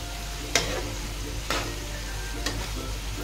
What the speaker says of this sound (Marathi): पुन्हा हलवून थोडी शिजवून घेऊया.